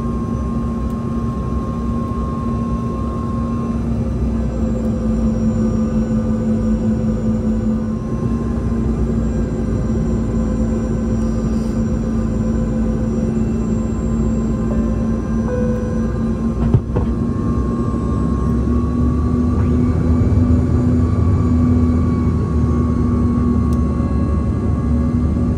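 A SkyWest regional jet flies near the Bemidji, Minnesota airfield, its engines giving a loud, steady drone with a sustained whine that holds throughout with no speech.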